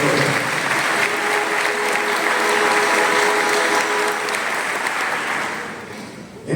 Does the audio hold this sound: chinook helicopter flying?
no